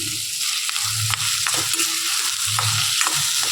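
Onions sizzle steadily in hot oil with curry leaves and green chillies while a spoon repeatedly scrapes and stirs the pan, a continuous close frying hiss broken by rhythmic stirring knocks.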